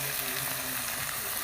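Sliced bitter gourd and shallots sauté in hot oil, giving a dense, continuous sizzle that sits close and steady throughout.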